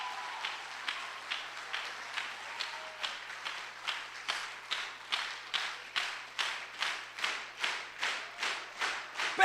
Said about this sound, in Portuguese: Aplauda essa igreja, aplauda Maria e faça barulho.